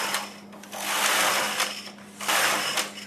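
A Singer System 9000 knitting machine carriage knits rows of English rib, a loud close mechanical whirring swoosh in two long sweeps with a brief lull between, steady hum underneath.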